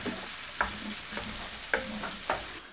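Finely chopped onion sizzles gently in a pan, a soft steady crackle with four or five light stirring scrapes spaced about half a second apart, fairly quiet and without voices.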